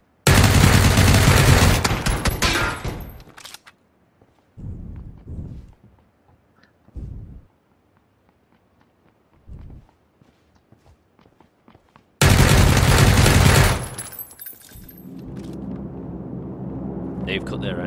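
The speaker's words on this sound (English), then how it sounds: "I hear gunfire." Gunfire in the video game PlayerUnknown's Battlegrounds: loud bursts of rapid shots open the scene and erupt again later, separated by quieter stretches of scattered footsteps and faint distant noises.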